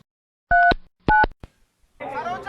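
A phone keypad beeps out a number as two loud, clean touch-tone dial tones and then a faint third press, followed by the start of a ringing or tone in a quiet indoor scene.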